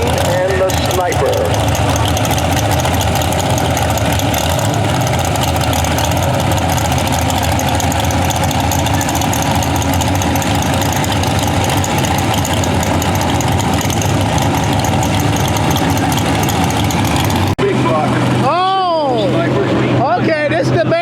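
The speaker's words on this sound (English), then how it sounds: "This is the biggest engine here." A 502 big block engine in a pulling tractor idles at a county fair tractor pull, a loud, continuous rumbling drone heard close. Toward the end the engine cuts out and wavering sounds follow, and an announcer can be heard at times.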